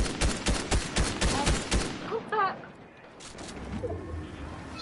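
Video game gunfire: a rapid burst of sharp shots in the first two seconds, then fading to quieter game ambience with faint chirps and a brief voice.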